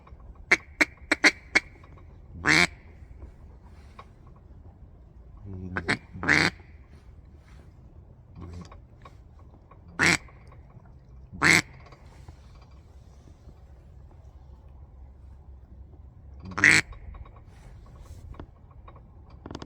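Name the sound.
imitated duck quacks to attract ducks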